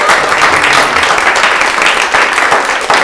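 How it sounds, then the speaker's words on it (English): Applause for a speaker at the close of a talk by a writer and photographer, a dense, steady wash of clapping that fills the whole stretch without pause. "Let's have another round of applause, Margaret."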